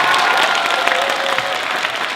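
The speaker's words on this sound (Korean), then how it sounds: "조응천 의원한테 박수" An audience at a talk concert applauds, dense, loud clapping from many hands that holds steady throughout the short stretch.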